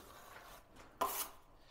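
A trowel scraping excess plaster off an interior window reveal, a short, faint, rough rub with a louder scrape near the middle, no talk.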